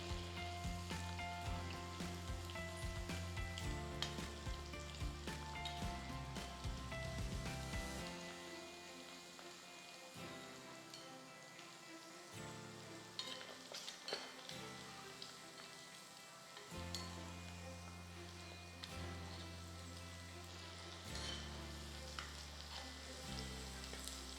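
Prawns frying in a pan for prawn pickle, a steady crackling sizzle of hot oil running underneath music throughout, with no speech.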